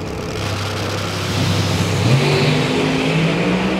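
Two bracket drag race cars running side by side toward the finish line, a loud engine roar that swells and rises in pitch as they pass close by.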